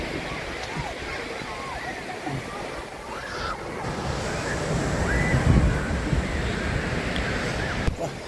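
Surf rushes and washes continuously at Odalarevu beach, a steady broadband roar with wind buffeting the microphone and voices faintly underneath.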